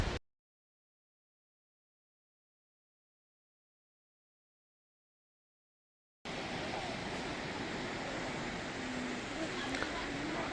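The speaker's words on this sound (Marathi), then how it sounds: "पाऊस पडलाय आणि नुकतंच मेहरबानी बरं झालं की पावसाला सुरुवात झाली आणि धबधबा वाहतोय" Thoseghar waterfall near Satara flows after fresh rain as a steady, dense roar of falling water, beginning abruptly after several seconds of silence and holding constant, loud and close, without a break.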